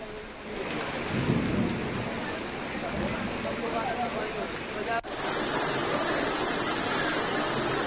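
Heavy rain and thunder pound down during flooding in Bhopal: a dense, steady roar of downpour with low rumbling early on, then a sudden break near the end before the rain continues just as loud.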